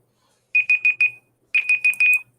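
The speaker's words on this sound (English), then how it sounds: "Let me reset the timer." An auction timer alarm sounds two bursts of four rapid, shrill electronic beeps, loud and close, separated by a short pause.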